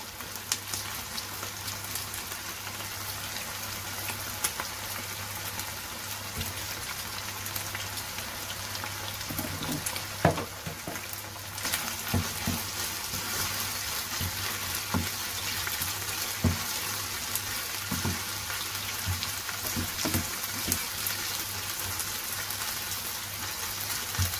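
Garlic sizzling and crackling in hot oil in a pan, a steady broadband hiss with scattered small pops, close and moderately loud, with no one speaking.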